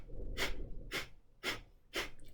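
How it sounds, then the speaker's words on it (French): Breath of fire yoga breathing: four sharp, rapid forced nasal exhalations in an even rhythm about half a second apart, close and fairly soft, no talking. "maintenant, on va faire la respiration du feu. Et là, c'est beaucoup plus rapide."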